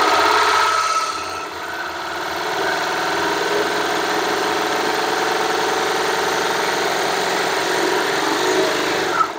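A Baby Lock Victory serger runs steadily while sewing a rolled hem, giving a close, continuous high-speed whir and rattle with no talking.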